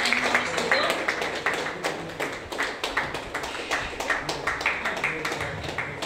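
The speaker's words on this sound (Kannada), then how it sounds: "ಚಪ್ಪಾಳೆ ಹೊಡಿರಪ್ಪ ಎಲ್ಲರೂ." An audience at a church honouring ceremony claps steadily and rhythmically for several seconds, a dense patter of hands in a reverberant hall, with a voice speaking over it.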